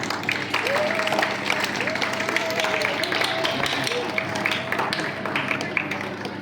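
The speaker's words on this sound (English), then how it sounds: "Everyone please keep clapping." Students honored at a school ceremony receive sustained clapping from the audience, a continuous patter of many hands with a voice sounding over it throughout.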